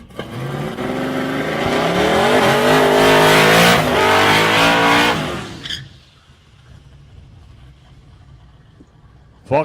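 A Chevy Ute accelerates on a street racing circuit. The engine roars loudly and rises in pitch for about five seconds, then drops away sharply to near quiet, with a faint thump at the end.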